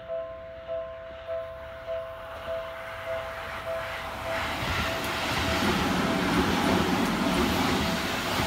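A Seibu Railway 6000 series train, set 6115 from the fourth batch, passes close by. Evenly spaced wheel clacks come first, then a rumbling roar swells and holds as the cars go by.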